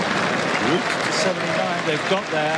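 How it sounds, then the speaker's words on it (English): Cricket crowd at an England Test match applauding as England reach 300 runs, a broad steady wash of clapping that runs under a commentator's continuous talk throughout. "And the applause is for England's 300."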